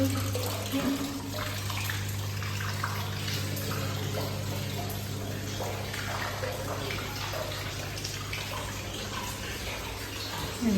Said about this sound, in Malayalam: നാച്ചുറലായിട്ടുള്ള സൗണ്ട് വെള്ളം വീഴുന്നതിൻ്റെ